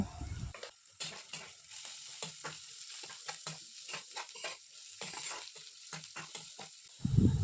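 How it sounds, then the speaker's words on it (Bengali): Onions fry with salt and turmeric in a pan for a spicy prawn curry, a steady close sizzle broken by repeated scraping stir strokes and a louder clatter at the finish, with no voices. "পেঁয়াজটা একটু লাল লাল করে ভেজে নেব। এবারে নুন হলুদ দিয়ে ভালো করে ভেজে নেব।"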